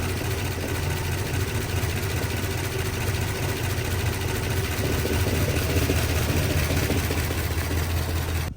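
An old Mopar V8 idling rough with a leaking brake booster line, a steady low uneven rumble running throughout at close range, with no talking.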